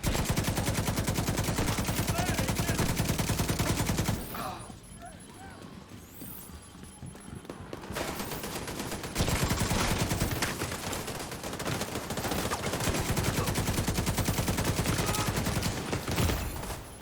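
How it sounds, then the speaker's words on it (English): Rapid automatic fire from the exotic Pakhan light machine gun in The Division 2 rattles in long sustained bursts, dense and loud, with a brief pause partway through before firing resumes. "So in this build, I am using the new exotic LMG Pakhan."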